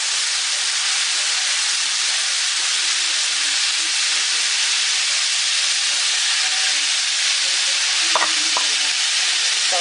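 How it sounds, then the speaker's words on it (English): Gyoza pan-fry in oil after water has been added to steam them. A loud, steady sizzle and hiss runs throughout, with a couple of sharp clinks of a utensil on the pan near the end. "add the water. That steam will finish them."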